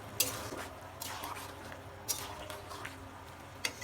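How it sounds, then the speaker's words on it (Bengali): A spoon lightly stirs curry in a cooking pot on the boil, giving a few soft, quiet clinks and scrapes spaced over a low bubbling hum, with no talking. "একটু হালকা করে নেড়ে দেবো।"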